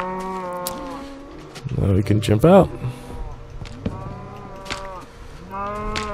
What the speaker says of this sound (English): God damn, cows.